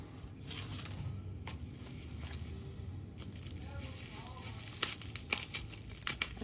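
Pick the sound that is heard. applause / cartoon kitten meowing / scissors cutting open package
scissors cutting open package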